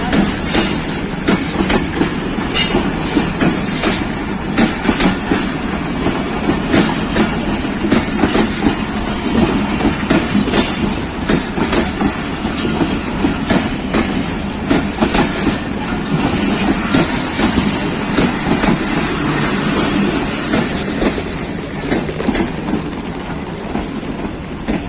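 The Karakoram Express, a long, late-running Pakistan Railways passenger train, pulls in at Drigh Road station in Karachi, its loud continuous rumble and rhythmic wheel clatter filling the platform throughout without letup.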